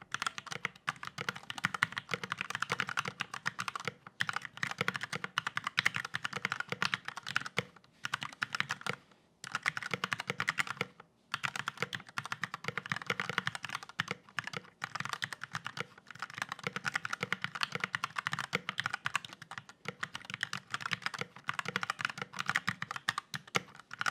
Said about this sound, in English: get an actual sound test of this keyboard